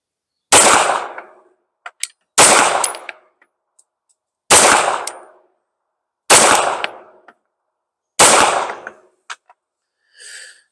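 Glock 17L pistol firing Sterling 9mm 115gr FMJ rounds, five sharp loud shots spaced about two seconds apart, each followed by faint tinkling of ejected brass landing nearby.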